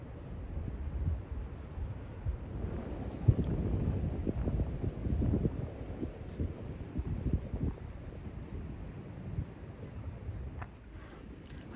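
Cold wind gusts steadily across the microphone beside a trout-fishing spot, a low continuous rumble that swells and fades for the whole stretch with no talking.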